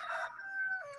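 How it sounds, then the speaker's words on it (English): A chicken calls once in a short clear burst, close and fairly loud against a quiet background. "There's a chicken."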